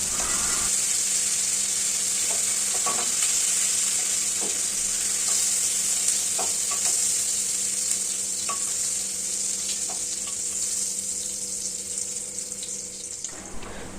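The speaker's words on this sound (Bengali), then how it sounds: "গরম তেলে কুচি করে রাখা পেঁয়াজগুলো আমরা ভাজতে থাকব" Chopped onions fry in hot oil for a soybean do-pyaza, a steady close sizzle lasting about thirteen seconds with scattered light stirring clicks, then cutting off abruptly near the end.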